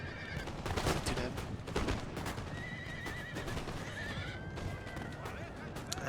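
Cavalry horses whinnying and galloping across a battlefield in the Napoleon Total War video game, several neighs ringing out over a dense rumble of hooves and scattered musket fire, with a voice talking over it.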